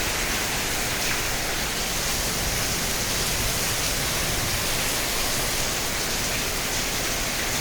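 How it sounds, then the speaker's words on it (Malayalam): Heavy rain falls steadily outside a house on laterite ground in Ernakulam, a dense, continuous hiss that stays loud and even throughout with no voices over it. "നല്ല മഴയാണ്, പക്ഷേ ഒരു തുള്ളി വെള്ളം പോലും ഇല്ല."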